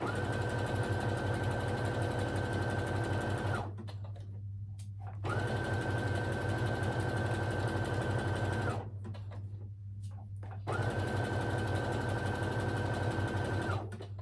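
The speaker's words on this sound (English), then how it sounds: "So we're just sewing down the outside of the leg." Sewing machine stitching down the outside leg seam of a pair of trousers, running loud and steady in three bursts separated by short pauses.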